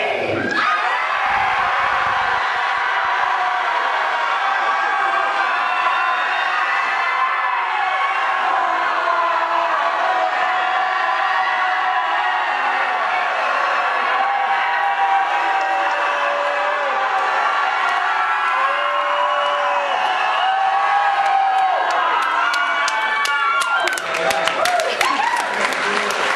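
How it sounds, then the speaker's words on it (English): A conference audience at a harm reduction event screams, whoops and cheers, a loud, sustained roar of many voices with clapping mixed in that carries on without a break for nearly half a minute. "scream until we're satiated. Scream!"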